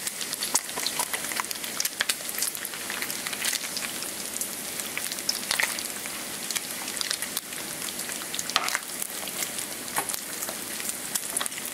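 Bacon fries in a pan with a constant, dense crackling sizzle that holds steady throughout, close and moderately loud with no talk.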